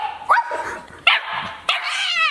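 Three sharp yips from a small puppy visiting a group of friends, each bark short and high-pitched, spaced about a second apart and close to the listener, with a brief whine trailing the last one.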